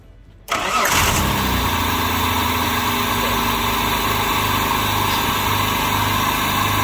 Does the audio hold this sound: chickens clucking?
no